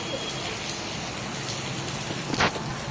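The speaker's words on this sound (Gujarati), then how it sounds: "વરસાદ ચાલુ છે અત્યારે હજી" Heavy night-time rain falls in Surat, a steady broad hiss of downpour at moderate distance, fairly quiet, with a brief louder splash or knock near the end.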